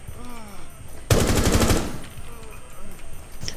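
Rapid burst of machine gun fire in a video game, loud and close for about a second, with voices talking before and after.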